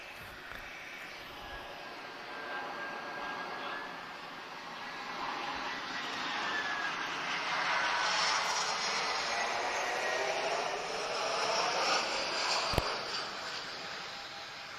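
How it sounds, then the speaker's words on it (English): Eurowings Boeing 737 operated by TUI landing at Lisbon Airport, a broad jet roar that swells gradually toward the middle, holds at moderate distance and fades slightly, with a brief sharp click near the end. "we've got a very good looking 737 from Eurowings, which is operated by TUI"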